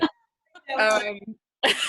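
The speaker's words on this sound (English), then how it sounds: "I just coughed because I have allergies." A single sharp cough, then a person starts speaking, with another short voiced burst at the end.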